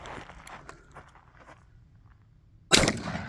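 A single shotgun blast at a clay target shoot rings out loud and close near the end, after a stretch of faint outdoor background noise.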